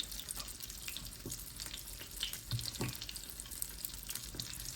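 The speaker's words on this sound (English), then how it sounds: "we're just going to let that fry for like 3-4 minutes on each side" Fish fillet frying in hot oil, a soft continuous sizzle and crackle with small pops, fairly quiet and close, no talking.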